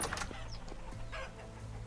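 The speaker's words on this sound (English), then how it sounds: "Those chickens weren't here before." Chickens cluck in a Vintage Story game world, a few short close calls over a steady low background hum.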